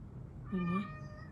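A house cat gives a single short, clear meow at close range against a quiet room background.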